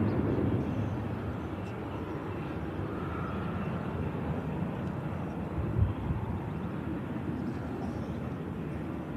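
Jet engines of a Lufthansa Airbus A321 with IAE engines after takeoff from Manchester Airport, a continuous broad roar slowly fading as it recedes, with a brief bump near the end and no talking.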